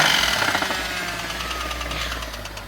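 A loud, rough BMW engine running without oil clatters with rapid, rhythmic knocking, harsh and continuous, recorded up close.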